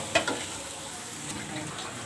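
Chicken macaroni with capsicum cooks in a pan, a soft steady sizzle close by with a couple of brief stirring clinks early on.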